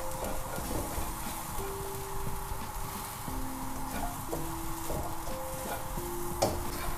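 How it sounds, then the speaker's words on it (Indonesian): Ingredients dry-roasting in a pan for a yellow spice paste, already slightly charred, with steady light sizzling and repeated scraping and stirring strokes throughout, close up and without talk. "ini juga tak sangrai lah, biar harum"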